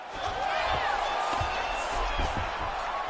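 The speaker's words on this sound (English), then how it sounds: "the crowd loves the stand-up fight" A crowd roars steadily in a UFC fight simulation video game, a continuous wash of cheering with a few thuds underneath.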